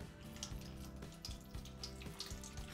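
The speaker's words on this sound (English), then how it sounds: "Turn the tap on." Hot water runs steadily from a bath tap into a tub, a continuous close splashing rush with small gurgling shifts throughout.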